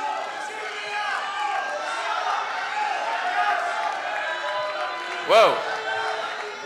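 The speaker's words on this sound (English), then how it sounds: "Crowd is fired up tonight." Excited crowd noise at a live wrestling show, a steady roar of cheering and chatter throughout with a sudden sharp shout near the end, heard under close commentary voices.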